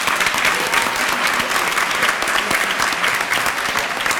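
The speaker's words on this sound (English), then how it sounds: "let's give this group of leaders a big round of applause" An audience at a 4-H leadership banquet claps steadily for the whole stretch, a loud, dense and even round of applause with no voices on top.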